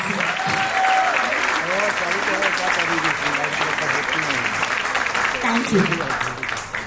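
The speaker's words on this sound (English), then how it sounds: "a loud round of applause for a spectacular audience" Audience applause at a school annual day celebration, a sustained loud round of clapping filling the whole stretch, with a brief spoken thanks over it.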